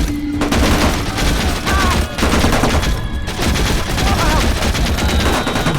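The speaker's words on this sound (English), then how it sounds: "I should be using the machine gun anyway." Machine gun fire in the war video game Tunnel Rats: 1968, loud sustained bursts of rapid automatic shots broken by brief gaps, close and continuous.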